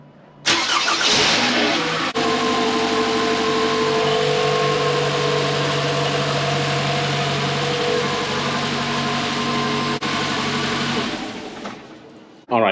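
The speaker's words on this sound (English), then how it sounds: "we're going to give the engine a start now." A 2012–2017 Toyota Camry 2.5L four-cylinder, just serviced with new spark plugs, air filter and a cleaned MAF sensor, cranks briefly and fires up, then idles steadily and loudly up close for several seconds before shutting off.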